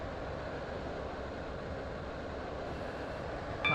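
A train in the Stepford County Railway game rolls into a station on the Waterline service toward Greenslane, giving a steady, loud rumble throughout, with a brief bright tone near the end.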